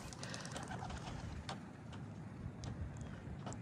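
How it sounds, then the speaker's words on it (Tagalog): Racing pigeons cooing and calling during a Capistrano Classic race release, steady outdoor bird noise with soft repeated coos over a constant low rumble, no talk. "Ito na mga ibon natin."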